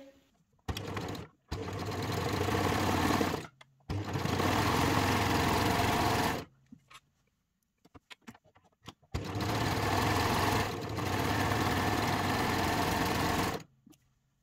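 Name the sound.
sewing machine stitching lace sleeves onto a dress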